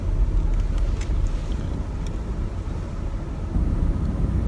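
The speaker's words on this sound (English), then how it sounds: "And then I'll go combat the wind." Steady outdoor wind roars across the microphone on a morning, a dense low rumble with gusty fluctuations throughout, loud and unbroken with no voices.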